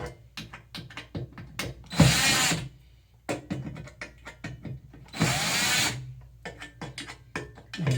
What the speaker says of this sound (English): I'm gonna back up the drill